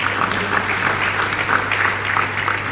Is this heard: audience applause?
yes